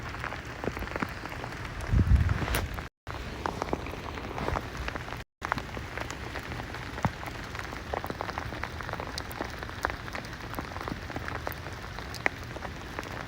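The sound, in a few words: sleet storm in New York City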